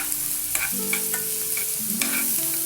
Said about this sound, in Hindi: कुछ देर और फ्राई कर लेते हैं।